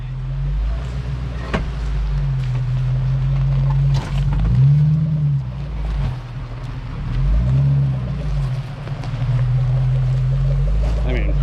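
Jeep Gladiator engine drones steadily off-road through a burned-out forest after a wildfire, a loud low hum that swells slightly now and then, with people talking over it.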